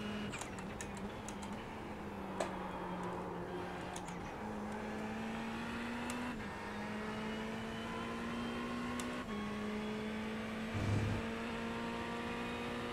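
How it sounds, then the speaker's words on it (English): A turbocharged race car engine in a racing video game at Monza drones steadily, shifting pitch in stepped gear changes, with faint clicks and a brief turbo chirp off throttle near the end. "I really like the turbo chirp off throttle here too"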